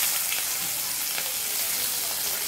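Chopped onions sizzling in leftover oil from frying tangra fish in a wok, a loud steady crackling hiss close up.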